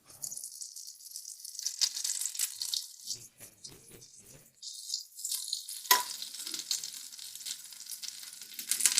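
A tablespoon of salted butter sizzles and crackles in a frying pan, fizzing up loudly, fading in spots and then flaring again with stirring rattles close by.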